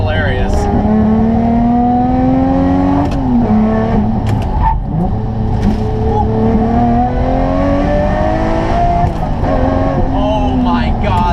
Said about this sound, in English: Oh my God, that sounds good.